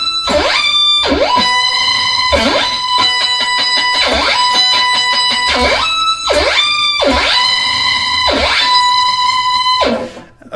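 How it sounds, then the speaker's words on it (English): Electric guitar notes sweep upward in pitch over and over, each phrase rising sharply through a whammy pedal set to slide up two octaves, in a steady repeating pattern. "That's just set to slide up 2 octaves,"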